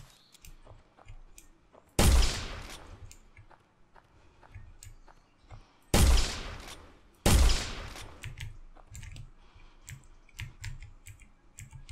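Three heavy gunshots ring out in a Bigfoot-hunting video game, one near the start and a close pair later, each a loud sharp blast with a short decaying tail over a quiet backdrop of faint clicks and taps.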